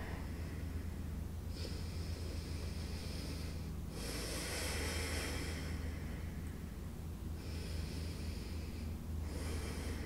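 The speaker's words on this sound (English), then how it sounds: "2 deep breaths here" Slow, deep breaths drawn in and let out through the nose while holding a hip-opening yoga pose with the hips raised, a few long airy swells over a steady low hum, with no talking.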